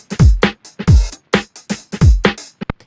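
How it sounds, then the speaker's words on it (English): Filtered drums built on the Amen break play in a pop verse: punchy kicks with pitch-dropping booms and crisp snare hits in a syncopated breakbeat pattern, dry and upfront, ending in a quick pair of hits. "let me show you what the drums sound like in the verse compared to the chorus"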